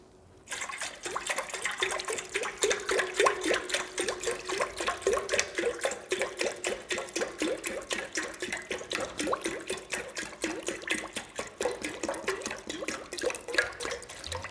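Water poured steadily into a vessel, a close continuous splashing stream with rapid rhythmic glugging that runs on for several seconds with no talking.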